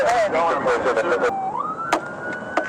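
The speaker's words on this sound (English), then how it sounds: "officers activated their lights and sirens, initiating a pursuit" A police siren wails loudly nearby, switching from a rapid yelp to a rising sustained tone, with a few sharp clicks and brief voices.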